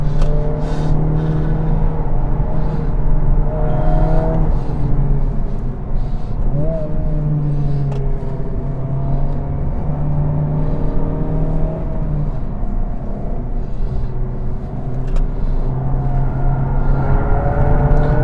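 A new Honda Civic Type R circuit-tested at Istanbul Park, its engine droning and whirring with tones rising and falling as it accelerates and shifts, steady and prominent throughout the lap section.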